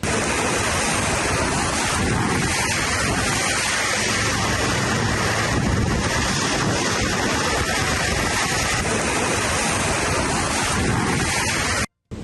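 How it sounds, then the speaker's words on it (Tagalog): Strong, roaring typhoon wind in Cagayan, Philippines blows continuously, whistling and buffeting the microphone with a constant rushing noise and occasional gusts, ending abruptly. "Dinig na dinig ang malakas na sipol ng hangin."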